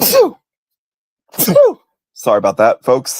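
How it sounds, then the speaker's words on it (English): Two sharp sneezes from a man during a snow day live stream, separated by a pause, followed by a brief spoken apology. "That was a sneeze."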